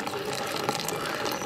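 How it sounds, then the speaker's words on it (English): Kokum water pours into a ground kokum sol kadhi mixture, a steady, close splashing trickle that runs the whole time with no voices. "I will pour in the water from the KOKUM"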